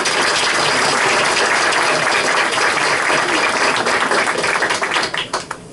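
An audience applauds to welcome Chairman Stant, director of the Virginia Military Aviation Museum, with loud, dense clapping that holds steady and then thins out into a few scattered claps at the end.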